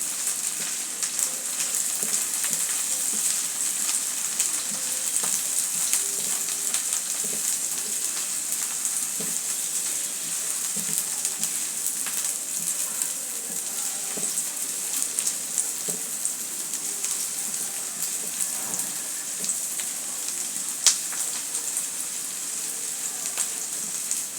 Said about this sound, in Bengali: এখন রসুনগুলোকে আমি ভেজে নেব